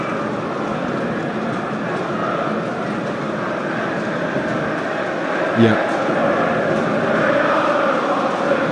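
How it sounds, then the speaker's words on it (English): West Ham football fans making a sustained roar of crowd noise inside a Premier League stadium against Leicester City, a dense continuous wash under a radio commentator's voice. "And all the noise you can hear now is from the West Ham fans."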